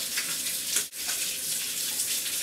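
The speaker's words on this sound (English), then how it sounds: "In the meantime I'll wash the sweet potatoes." Tap water running steadily at a kitchen sink while sweet potatoes are washed, a close, continuous hissing splash with one brief dip in the flow.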